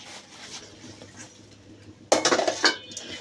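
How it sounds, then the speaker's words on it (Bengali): A frying pan set down on a stove, one sharp metallic clatter of cookware close by, followed by a few lighter clinks after a quiet stretch. "এখানে একটা ফ্রাই প্যান বসাইছি, আঁচটা একদম মিডিয়াম করে দিব।"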